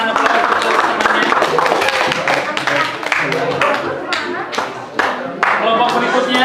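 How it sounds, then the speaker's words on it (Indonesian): A classroom audience claps in scattered, uneven bursts of hand claps, fairly close, mixed with people talking over the applause. "terima kasih berikan aplaus untuk semuanya"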